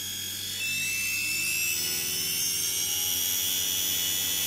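A DC series wound motor under PWM control with supercapacitor regenerative braking, giving a steady electric whine and high-pitched tones that hold and shift slightly, over a low hum with no talking.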